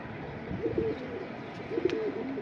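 Pigeons cooing close by in a cage, two soft rounded throaty coos about a second apart over a low, busy background.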